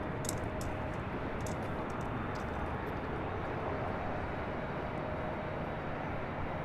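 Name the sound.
KLM Boeing 787-10 Dreamliner landing at LAX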